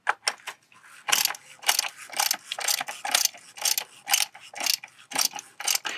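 A ratchet fitted with a 32 mm socket snugs the plastic oil filter housing cap on a 2014–2018 Volkswagen Jetta 1.8T, giving close, rapid bursts of sharp ratcheting clicks in repeated strokes.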